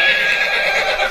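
A horse whinnies loudly and close, a sustained high neigh lasting about a second with no talk over it.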